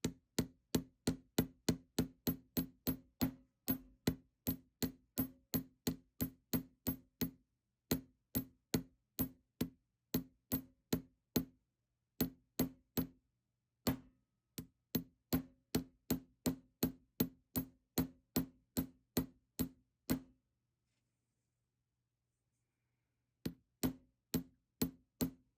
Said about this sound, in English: Now I want to hammer the very tips of them to create a headpin.